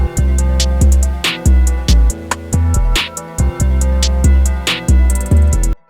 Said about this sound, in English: Last minute change, I'm going to switch these 2 808s around.